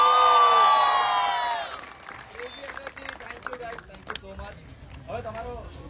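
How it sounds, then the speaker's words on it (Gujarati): An outdoor crowd at a film promotion event cheers loudly with a high sustained shout, then breaks into scattered claps and excited voices with children shouting. "પહેલા જોરદાર તાળીઓ આ લોકો માટે થઈ જાય યાર"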